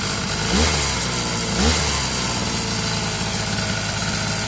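A Sadko GTR 2200 petrol brush cutter idles after its carburetor is replaced and its speed adjusted: a steady, buzzing small-engine idle, close and moderately loud, with two brief slight rises in pitch and no talk.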